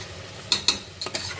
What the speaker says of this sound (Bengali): আমি মশলাটা কিন্তু এখানে ভালো করে কষিয়ে নিচ্ছি